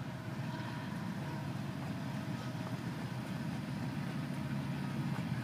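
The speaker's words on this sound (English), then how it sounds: "I mean, look at this train." An FEC freight train hauled by four locomotives, roughly 12,000 feet long, rolls past as a steady, loud low rumble with continuous rail noise and no break throughout.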